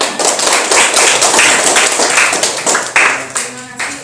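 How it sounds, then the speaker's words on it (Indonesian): A burst of hand clapping from a small group, dense and uneven, with a few voices mixed in toward the end. "Tepuk tangan."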